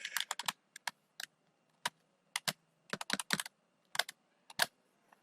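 A password is typed on a computer keyboard in rapid, irregular bursts of sharp key clicks with short pauses between them, heard close and fairly quiet with no voices.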